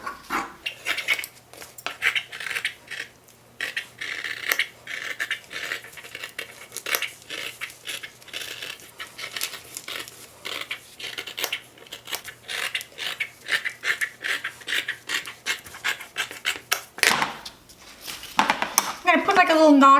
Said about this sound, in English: So now I'm going to cut around this pattern piece.